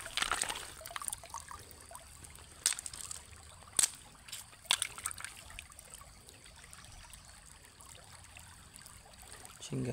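Water trickles and dribbles onto a red agate stone, a faint continuous flow broken by a few sharp splashes and drips.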